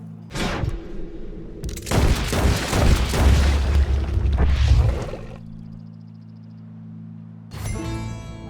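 Heavy booming gunshots in Red Dead Redemption 2 ring out in a dense cluster of blasts, followed by a quieter stretch with a steady low hum and one final sharp shot.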